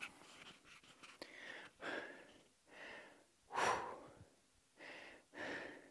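A voice imitates heavy breathing with slow, rhythmic inhales and exhales, six or so breaths, close and fairly quiet.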